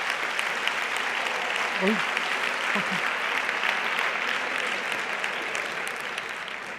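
An audience at an EXDUCERE 2023 talk on mathematics gives sustained, even applause that fills the room and slowly tapers. A short vocal exclamation comes through early on.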